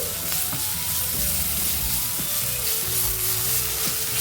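Chopped ajwain leaves fry in hot oil for rasam, a loud, steady hissing sizzle with occasional pan scrapes and stirring knocks, close and continuous with no talking.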